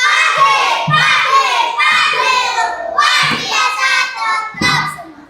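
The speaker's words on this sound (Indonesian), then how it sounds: "Tepuk tangan." Children clapping hands in a primary-school maths class, several sharp clap bursts in a loose rhythm between loud, chanting young voices.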